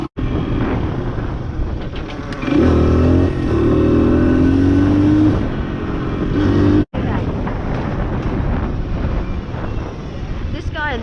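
A dirt bike engine revs up loudly as the clutch engages, its buzzing tone rising and holding for several seconds before dropping back to a steady idle, heard close from the rider's position.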